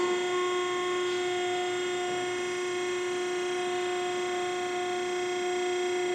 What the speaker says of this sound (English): now he's going to turn on the machine, and now he'll move forward with the cylinder